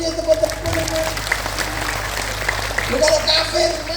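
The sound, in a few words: audience clapping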